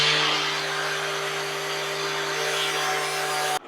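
An angle grinder fitted with a grinding wheel runs continuously against the cut end of a wire, giving a loud, steady motor whine with a broad abrasive hiss; it cuts off abruptly at the end.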